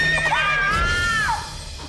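A horse gives a single loud, shrill neigh that rises and falls over about a second. It sounds in a dramatic TV scene over a low background hum.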